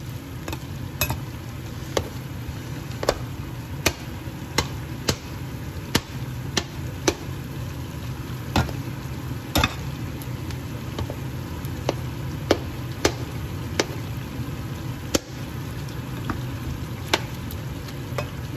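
A skimmer chops potatoes as they fry in a pan for a Spanish tortilla, giving sharp irregular knocks against the pan over a steady close sizzle of oil, with no talk.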